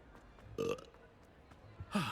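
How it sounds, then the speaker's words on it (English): A character in Hogwarts Legacy lets out two short, close burps about a second apart, the second slightly louder. They stand out against quiet game ambience. "Did I just burp?"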